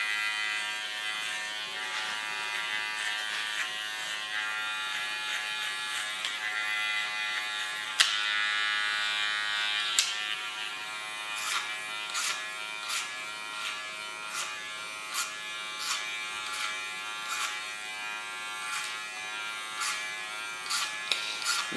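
An electric hair clipper buzzes steadily while cutting hair, a bright tonal hum with a louder burst midway, then short repeated clicks and strokes as the blade moves through the hair.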